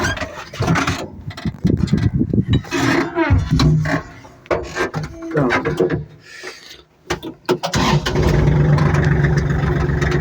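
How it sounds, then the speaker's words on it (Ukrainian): A tractor pulls a 1.8 m disc harrow through grassy ground, its engine surging and dropping with uneven clattering bursts before settling into a loud, steady drone near the end, with someone talking over it at times. "зараз проїду, покажу, як воно оцю травичку завальває"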